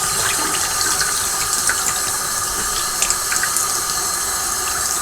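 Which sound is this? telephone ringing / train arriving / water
water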